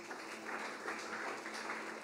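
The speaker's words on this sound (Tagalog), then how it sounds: "Pumalakpak po dito yung nakakagets." A church congregation claps together in a soft, dense patter that stays faint and steady throughout, with no one speaking over it.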